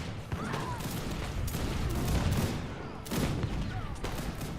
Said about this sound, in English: Has 1 artisanal cannon blasting at the tower.